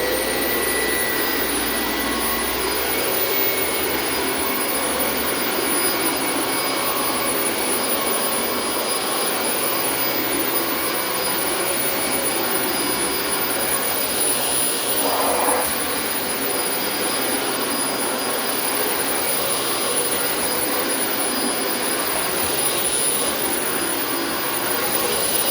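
A refurbished vacuum cleaner runs through a test, a steady, loud, unbroken whine with a high-pitched tone riding over a broad roar, holding evenly throughout.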